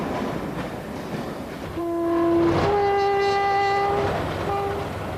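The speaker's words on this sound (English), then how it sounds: "Join the train for a 70-mile journey across the roof of England." A train on the Settle and Carlisle Railway sounds its horn in two sustained tones over a steady rumble of rolling wheels, loud and fairly close, with the horn swelling then fading.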